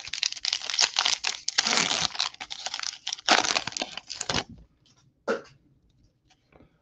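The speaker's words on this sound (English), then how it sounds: "But here I am ripping baseball cards instead." Baseball card packs being ripped open and their foil crinkled, loud close tearing and crumpling bursts for about four seconds, then near silence with a few faint rustles.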